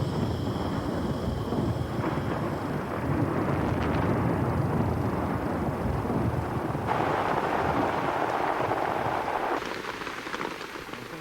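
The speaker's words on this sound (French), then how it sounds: "La pluie interrompt le travail de l'équipe comme celui des fourmis." Heavy rain pours steadily on a documentary film shoot outdoors, a dense, loud hiss of drops on surfaces lasting throughout, with slight shifts in intensity and a small drop-off near the end.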